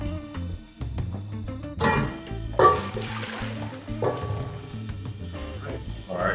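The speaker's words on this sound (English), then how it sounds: "The water's been boiling, so we're gonna go ahead and pour it in this pot right here." Boiling water pours into a pot for brining a chicken: a rushing, splashing stream surges in near the mic, then settles into a steady watery wash that lasts to the end.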